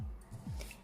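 Scissors snip through a white cotton tank top being cut for a DIY dress, giving a brief, faint close cutting sound.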